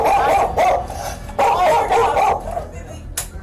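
A dog barks repeatedly in sharp, close bursts during a confrontation with people squatting in a home, with people talking over the barking.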